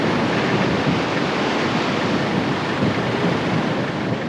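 Waves break across a river mouth bar in a steady, loud roar of surf, continuous and unbroken, with wind buffeting the microphone and no voices.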